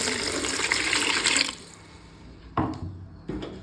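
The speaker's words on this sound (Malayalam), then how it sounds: "ഞാനിതിലേക്ക് ഒരു അരക്കപ്പ് വെള്ളം ഒഴിച്ചു കൊടുക്കാം" A stream of half a cup of water pours noisily into a pan of fried dal masala for about a second and a half, then stops, followed by a few quieter clinks.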